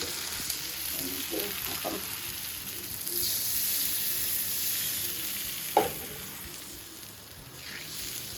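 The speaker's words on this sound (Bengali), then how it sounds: "মশলাটা কষায় নিচ্ছি, মাছগুলো ভাজা হয়েছে।" Spice paste sautés in a pan with fish, giving a steady soft sizzle close by, broken by a few clinks and scrapes of stirring.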